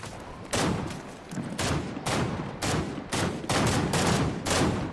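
Gunfire in a shooter video game, with a rapid series of loud, sharp shots, some single and some in quick clusters, ringing out over a steady background rumble of battle noise.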